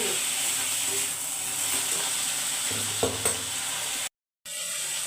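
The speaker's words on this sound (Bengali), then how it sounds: "দেখো আমি তেল দেওয়ার পরে আমি লঙ্কা ভেজে দিচ্ছি।" Chilies, cumin and drumstick leaves fry in hot oil, giving a steady close sizzle and hiss with a few stirring knocks, then a brief dropout before the sizzle resumes.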